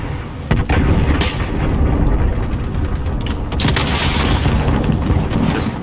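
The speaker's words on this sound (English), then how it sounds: "Allied cruise missile away." An allied cruise missile exploding in a Call of Duty Modern Warfare multiplayer match, loud booming blasts and rumbling impacts mixed with gunfire, several sharp bursts over a constant roar.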